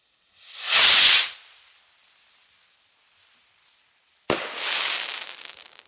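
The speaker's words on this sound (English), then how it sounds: "nice sizzling crackle. You can hear those rockets thumping down afterwards." Kung Fu rockets from Polywonder go off in two bursts. A loud hissing, sizzling crackle swells and fades, and after a quiet gap a sharp thump starts a second, softer crackling spray.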